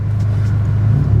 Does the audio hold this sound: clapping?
no